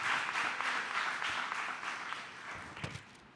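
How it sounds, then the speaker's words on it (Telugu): A church congregation at an Easter Sunday service claps loudly together, a dense burst of applause that gradually fades over a few seconds. "గట్టిగా చప్పట్లు కొట్టి ప్రభు యొక్క నామాన్ని ఘనపరుద్దాం"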